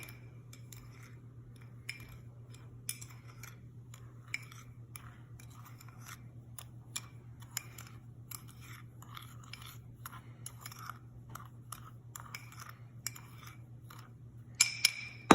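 Cinnamon being stirred into donut muffin batter in a bowl, a soft scraping and sporadic light clicks of utensil against the dish over a low steady hum, ending with a few louder knocks.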